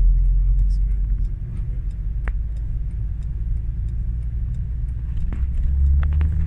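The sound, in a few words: blue Opel diesel car engine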